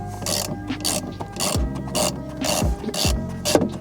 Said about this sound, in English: So once we've loosened the nut